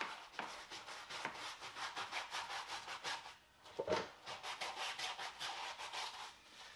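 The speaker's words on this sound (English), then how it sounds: "it makes it much easier to get down here closer to the floor and get those bristles deep down." Stiff brush bristles scrub a car wheel during a wash, rhythmic back-and-forth rubbing strokes, close and fairly steady with a brief pause midway, no talking.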